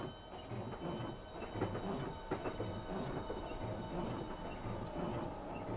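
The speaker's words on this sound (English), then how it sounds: "That's a train going by on the main line." Train rumbling past on the main line in a train simulator, a steady low roar and rattle of wheels that holds at moderate distance without fading, with no voices.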